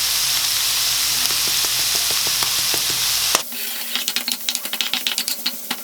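Shrimp dusted with paprika, ground ginger and curry fry in a pan, first a dense loud sizzle with light stirring clicks, then after a sudden shift a quieter crackle broken by rhythmic scraping and stirring.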